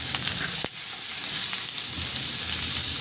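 Tomatoes and onion sauté in a pan for a Filipino pechay and pancit dish, giving a steady, close sizzle broken by a sharp clatter early on, with no voices.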